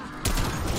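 A shotgun fires in Call of Duty Cold War Zombies, with a sudden loud blast about a quarter of the way in followed by a sustained roar of game noise.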